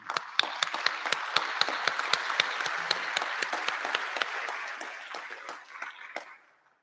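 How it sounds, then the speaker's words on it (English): Audience applause at a conference plenary session, a steady burst of many hands clapping at close range that tapers off and fades out near the end. "could I please have a round of applause?"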